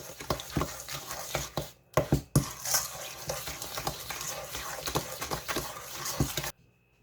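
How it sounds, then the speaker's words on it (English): Lemon loaf batter ingredients are mixed in a bowl with a spoon or whisk, giving steady scraping and clinking strokes in an irregular rhythm, close and moderately loud, with a brief quiet pause near the start. "you want to just go ahead and mix these ingredients together first"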